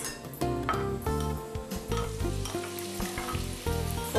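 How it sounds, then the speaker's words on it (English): Onions fried in hot oil in a pan for a Northern-style dish, sizzling steadily and loudly up close, with a few stirring scrapes and utensil clinks. "And when your oil is nice and hot, add your"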